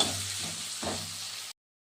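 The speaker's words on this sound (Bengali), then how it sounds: "একটা এই সাইজের পেঁয়াজ আমি কেটে রেখেছিলাম সেটার মধ্যে দিয়ে দিলাম ভাজা ভাজা করে নিই" Chopped onion sizzles in hot oil with cumin and bay leaf, a close, even crackling hiss that cuts off abruptly into silence after about a second and a half.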